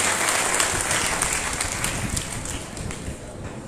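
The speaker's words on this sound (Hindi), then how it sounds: "कृपया ताली लगाकर बच्चों का अभिनंदन कीजिए।" An audience applauding children at a religious school gathering, with dense sustained clapping from a crowd that tapers slightly toward the end, fairly loud and close.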